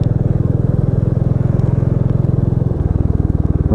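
Royal Enfield Meteor 350 single-cylinder motorcycle riding along a road, its steady thumping engine loud and close with a strong low pulse, pitch dipping briefly near the end as the rider eases off.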